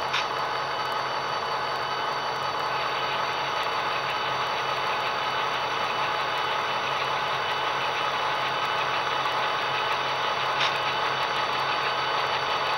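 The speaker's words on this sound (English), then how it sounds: "Now hopefully you can hear me over the sound of the engine" A loud, steady diesel engine sound from an Athearn Genesis SDP45 model locomotive drones continuously, a dense mechanical rumble with a faint whine, running on without pause and no talking.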